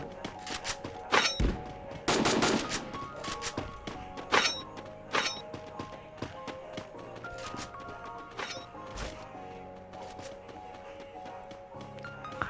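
Gunfire in a Free Fire clan battle comes as sharp, irregular thuds and cracks: single shots and short bursts scattered over the clip, some loud and close, others softer, above a low game background.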